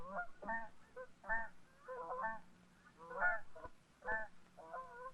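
Wild geese honk repeatedly in a 1966 film, a busy, overlapping chorus of nasal calls at a moderate distance, steady throughout with no talking.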